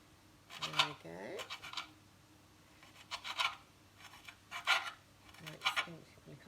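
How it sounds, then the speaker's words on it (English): A knife cuts herbs finely on a chopping board, giving a few scattered bursts of soft scraping and rasping strokes at close range with pauses in between. "So just cutting that nice and finely."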